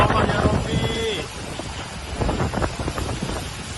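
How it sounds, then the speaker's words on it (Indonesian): Strong storm wind during heavy rain in Depok, Indonesia, gusting and rumbling against the microphone, with a voice speaking over it now and then. "Ya Allah ya Rabbi, angin topan."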